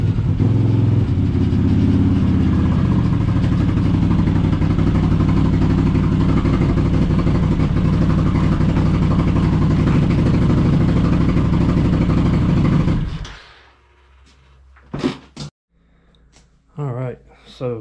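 A Can-Am Outlander ATV engine runs loud and close for about thirteen seconds as it pulls into a carport, then shuts off, followed by brief talking.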